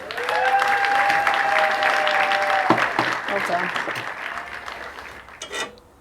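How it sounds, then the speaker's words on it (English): A burst of crowd applause sound effect fills most of the clip, steady and loud, then tapers off as a voice speaks briefly near the end. "I'll edit in some applause afterwards"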